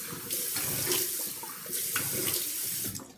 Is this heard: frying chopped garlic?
no